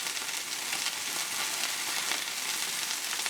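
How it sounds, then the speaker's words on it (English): Pork loin medallions fry in a hot pan with a steady, loud, close hiss and crackle of fat that holds without a break. "pork loins in the pan. I don't want them too close because they will not fry up."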